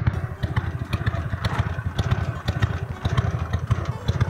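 A Harley-Davidson Sportster 883 XL idles up close with a steady, loping, uneven beat of dry pulses that runs the whole time without pause.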